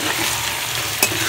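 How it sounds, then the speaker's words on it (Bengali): Fried dried fish, eggplant and potato sizzle and are stirred together in a pan, a steady close hiss with a sharp scrape or clink of the utensil about a second in. "দিয়ে আমি শুটকি মাছ, বেগুন, আলু সব কিছু একসাথে সুন্দর করে একটু কষানো নেব।"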